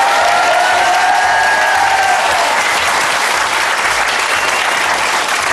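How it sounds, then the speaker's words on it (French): Loud, close audience applause for comedian Julie Ferrier on a French television variety show, dense and steady, with a few cheers mixed in near the start. "Merci de l'applaudir."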